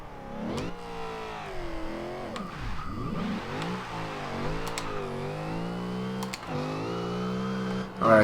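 2014 Chevrolet Super Sport in Forza Horizon 2, engine revving and accelerating through rising and falling pitch sweeps with gear changes, loud and continuous, a few clicks scattered over it.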